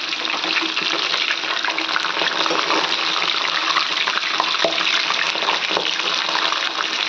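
Chicken 65 frying in a kadai gives a loud, dense, steady sizzle with small crackles, close up and uninterrupted, and no talking.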